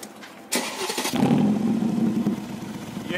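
A Mercedes G-Wagon engine cranks briefly and catches, settling into a loud, steady idle rumble close by.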